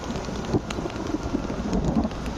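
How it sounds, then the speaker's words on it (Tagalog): Steady rain pattering on a surface, a continuous dense hiss with occasional louder drops, no voices. "Puro naman mawawala din tong ulan."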